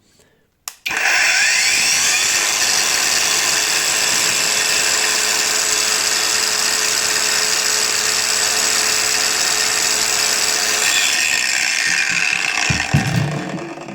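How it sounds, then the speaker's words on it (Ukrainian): A cordless Leader angle grinder spins up abruptly and holds a loud, steady high-pitched whine for about twelve seconds before winding down, close to the listener. "Зараз якось я налаштую цей процес, щоб не порізати ні стола і щоб вам було видно"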